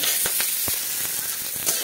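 Square-cut onion pieces fry lightly in hot oil, giving a continuous close sizzle with scattered crackling pops and no voices.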